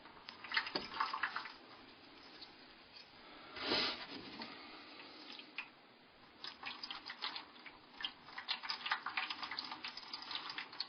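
Water runs and splashes over an albumen or salt photographic print being rinsed in a darkroom tray, a soft uneven trickle with a brief louder gush partway through, close and alone.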